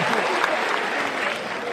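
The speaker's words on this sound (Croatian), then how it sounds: "To je taj težak aplauz" A comedy show audience in a club breaks into steady applause, many hands clapping in a continuous dense patter with a voice faintly audible underneath.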